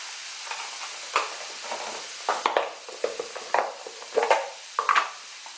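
Spoon stirring ingredients in a cooking pan over a steady sizzle, with repeated close scraping and clinking strokes in an uneven rhythm and no talking.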